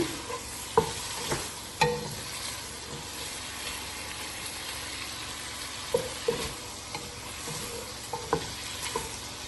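Ingredients for a white-sauce pasta sautéing in a pan, a continuous faint sizzle punctuated by periodic spoon scrapes and taps against the metal, close and steady throughout.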